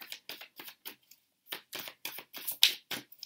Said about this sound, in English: I started shuffling these cards